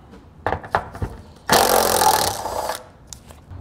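Plastic nuts being removed with a 10 millimeter socket while fitting a trailer hitch to a 2018 Chrysler Pacifica: a few sharp clicks and knocks, then a loud whirring burst of about a second from the driven socket, close up.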